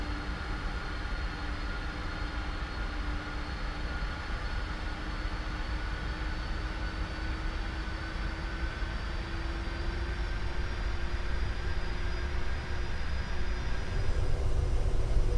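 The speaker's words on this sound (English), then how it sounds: "release the parking brake and begin taxiing to the runway" A PMDG 747-400 jet in a flight simulator rolls along the taxiway toward the runway, a steady engine drone with a faint whine, its rumble swelling slightly near the end.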